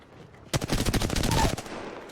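Rapid automatic gunfire in Apex Legends, a single burst of about a second of loud, closely spaced shots starting abruptly after a quiet moment and then cutting off.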